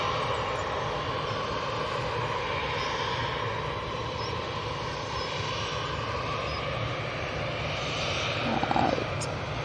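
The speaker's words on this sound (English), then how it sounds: "this EasyJet to the right might be sneaking in front though" An EasyJet airliner on approach to Manchester Airport drones steadily in a broad, continuous engine roar at moderate distance, swelling slightly toward the end, with no talking.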